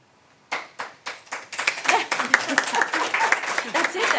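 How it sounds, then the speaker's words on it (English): At a school board of education meeting honoring teachers, a few separate claps open, then the audience joins in and the applause grows to a full, sustained round. "They absolutely deserve the applause."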